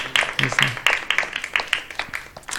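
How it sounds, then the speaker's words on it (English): Audience at a book distribution seminar applauds with a short, scattered round of clapping, individual claps audible at moderate distance, with a faint voice underneath. "a round of applause for these devotees"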